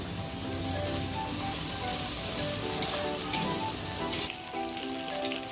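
Chopped chilli and tomato sizzle steadily in hot oil with frying onions, a dense, continuous crackle that stays loud and close throughout, easing slightly near the end.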